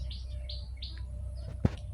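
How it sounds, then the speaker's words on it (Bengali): An oriental magpie-robin in Babyland Park, Bhola, gives three clear rising whistled chirps in quick succession, then softer notes, fairly close over low park ambience. "এপাশে একটা দোয়েল পাখি দেখা যাচ্ছে"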